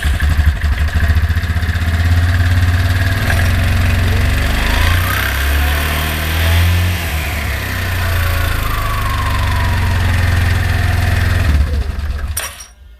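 A 2003 Yamaha Kodiak 400 4x4 ATV with a CVT belt fault runs close by with a loud, steady, clattering engine note that varies a little in pitch, then cuts off abruptly at the end.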